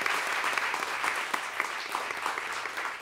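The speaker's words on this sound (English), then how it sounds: "Everybody, a round of applause for Miss Maria Rosario Jackson." An audience at a talk on LA's creative community gives a steady round of applause, dense continuous clapping throughout at moderate volume.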